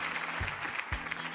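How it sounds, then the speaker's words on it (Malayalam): A studio audience on a Malayalam TV game show claps for a performance, a short burst of applause that stays fairly faint and even. "നല്ലൊരു കൈയടി."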